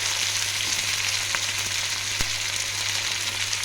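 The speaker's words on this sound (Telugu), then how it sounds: "వంకాయలు వేసుకున్నాక ఒకసారి కలుపుకుందాము." Brinjal pieces fry with a steady, close sizzle in a pan for a tomato curry, with a soft stir or scrape now and then and no talking.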